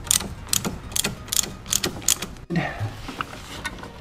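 Hand ratchet tightening a catch can bracket on a strut brace in an engine bay, with short bursts of rapid clicking in a repeated rhythm, close and clear.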